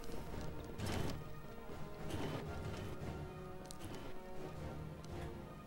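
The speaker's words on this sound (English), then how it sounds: "Jump through this glass." Glass shattering as a character leaps through a pane in the Enter the Matrix video game, a few loud crashing bursts over a busy, continuous game soundtrack.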